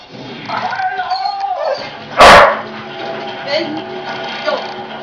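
Two dogs squabble over a single bone, giving yips, whimpers and sharp barks close by, with one loud burst of noise midway, while people talk over the commotion.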